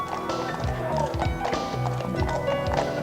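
Police horses' hooves clop steadily on hard ground at a police horse school, an irregular run of close taps beneath a constant background murmur.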